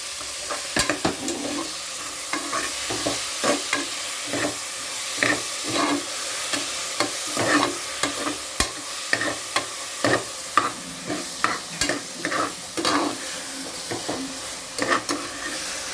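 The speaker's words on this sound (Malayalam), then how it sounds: "ഇനി ഇതിലേക്ക് ചതച്ച് വെച്ചിരിക്കുന്ന ഇഞ്ചി, പച്ചമുളക്, വെളുത്തുള്ളി ഇത് ചേർത്ത് കൊടുക്കാം." Crushed ginger, green chili and garlic sizzle in a pan for chicken curry while a spoon stirs and scrapes in a steady rhythm of clicks over a soft, constant frying hiss, close and without talk.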